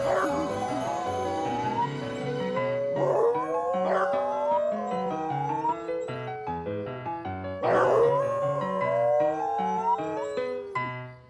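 Several dogs bark and howl together in long, wavering cries that rise and fall, loud and close, with a couple of swelling bursts.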